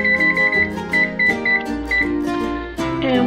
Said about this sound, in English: Alright, the 10 minutes timer went off.